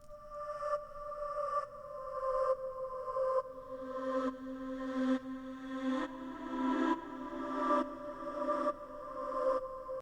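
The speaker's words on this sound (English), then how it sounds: "Listen closely to the panning effect now added to this sound." A sustained synth tone with an LFO-driven auto-pan sweeping it between the left and right ears, heard as a rhythmic pulsing shimmer with a rising low note partway through, quiet and with no voices.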